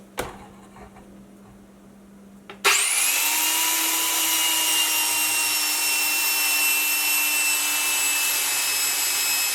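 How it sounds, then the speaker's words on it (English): Portable bandsaw cutting through wood for a decorative plant hanger: a brief handling clatter, then the blade starts abruptly and runs a loud, steady, whining cut for the remaining seven seconds, close and alone. "Just use a portable bandsaw."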